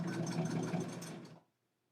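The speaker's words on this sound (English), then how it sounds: "And then we're going to stitch all the way down." A sewing machine runs steadily, stitching down the length of a fabric gift bag, its fast even motor whir close and loud before stopping abruptly.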